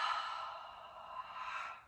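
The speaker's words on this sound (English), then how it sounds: "one of the best ways to release that heat, that intensity that builds up in our body is just to open mouth breathe" Open-mouth exhale during yoga pranayama practice, one long audible breathy sigh, close and fairly loud, fading out at the end with no talking.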